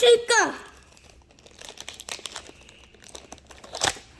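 Foil wrapper of a Pokémon card booster pack (Perfect Skyscraper set) crinkling and tearing open close by, a brief rip followed by scattered rustling, with a voice briefly at the start.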